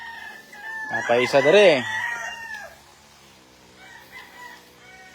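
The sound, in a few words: local banded stag gamefowl rooster crowing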